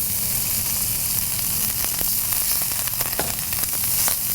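Butter sizzles steadily in a hot pan for Cajun shrimp pasta alongside olive oil and seasoning, a constant close crackling hiss with occasional sharper pops and utensil clicks.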